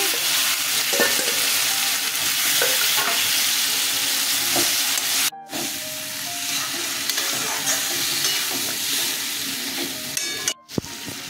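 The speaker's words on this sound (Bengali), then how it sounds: "সর্ষেটা কষানো হয়ে গেছে, কাঁঠাল বীজগুলো দিয়ে দিচ্ছি।" Jackfruit seeds are added to frying mustard paste in a pan and stirred, producing a dense, loud continuous sizzle with rhythmic scraping and clinks of the spoon throughout and two brief silent breaks.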